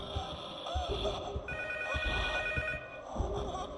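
A telephone rings in the P.T. horror video game, a moderately loud, electronic trilling bell heard in repeated bursts over a low, rumbling ambience.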